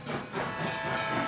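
A brief train wreck sound effect with hissing steam and rumbling rail noise, moderately loud and continuous, with no speech over it.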